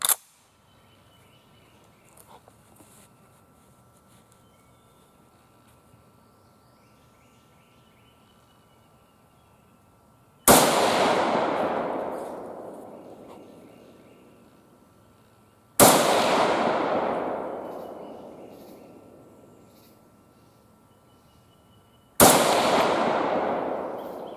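A Finnish-captured SVT-40 rifle firing at a 100-yard range, with four loud, widely spaced single shots, each a sharp crack followed by a long rolling echo decaying over several seconds, quiet between.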